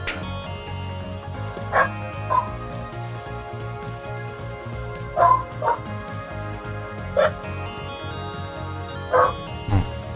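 A dog barks in short single woofs and yips at irregular intervals, fairly distant, over a steady background hum with faint music-like tones.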